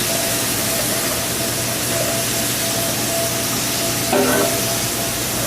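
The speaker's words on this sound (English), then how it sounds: "My gumbo, I like to use red peppers and green peppers. I'll drop that in." Red and green peppers and sweet onions sizzle steadily in a hot pan for gumbo, a loud continuous frying hiss with a brief clatter near the end and no talking.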